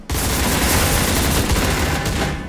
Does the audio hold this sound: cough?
no